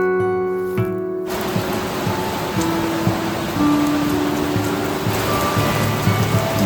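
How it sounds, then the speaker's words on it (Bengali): Steady rain falls on a hillside village in Kalimpong, North Bengal, on an evening. It makes a dense, even hiss, with a brief tonal sound at the very start. "বৃষ্টি ভেজা পাহাড়ি সন্ধ্যাটাকে চুপচাপ অনুভব করছিলাম"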